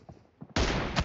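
Gunfire in the mobile battle royale game PUBG Mobile during a one-on-one M24 team deathmatch, a single loud close shot cutting in sharply halfway through after brief faint sounds.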